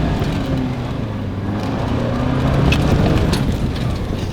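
A 2025 Toyota 4Runner accelerates smoothly, with a steady low engine drone heard from inside the cabin that swells slightly as it picks up speed.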